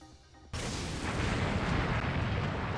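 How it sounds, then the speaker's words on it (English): Cannon fire in the Hakuoki video game: after a short quiet lead-in, a sudden loud blast erupts into a sustained, roaring barrage of booms that continues to the end. "The aggressive roar of cannon fire made the roof shake, and soon cannons were blasting through our walls."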